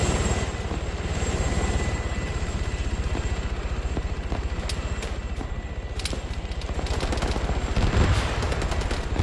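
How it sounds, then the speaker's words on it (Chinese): Helicopter rotors thrumming steadily in the Arma 3 combat game, with bursts of gunfire and machine-gun fire crackling through the continuous engine roar, no talking. "友军直升机到达现场"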